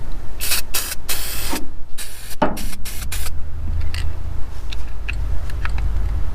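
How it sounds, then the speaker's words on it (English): Loud, close bursts of chassis black spray paint hissing from a can onto a 2001 Ford F-150 in several short and longer blasts, separated by brief pauses and faint clicks. "I'm going to use some of this chassis black paint. Spray that back in there."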